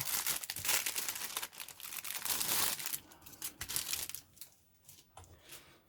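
A resealable plastic parts bag from a 1/35 Panzer III model kit is pulled open up close, loud crinkling and rustling that fades to lighter handling.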